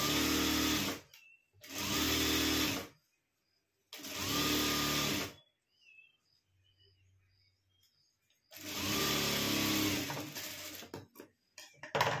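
A sewing machine stitches a sleeve seam on a garment, running in four separate bursts of rapid, close whirring clatter. Short quiet gaps fall between the bursts, with faint fabric handling in the pauses.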